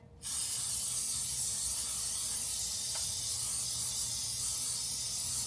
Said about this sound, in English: So I'm going to go ahead and spray the pan.